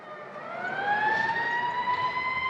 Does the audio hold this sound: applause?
no